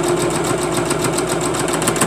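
A sewing machine stitches log cabin quilt pieces, a steady mechanical whir with rapid needle pulsing running loud and continuous throughout.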